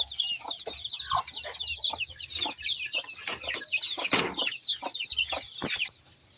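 Chickens cluck and chirp around newly hatched chicks at feeding time, a busy cluster of high peeping and soft clucks close by, with occasional wing flutters and scratching.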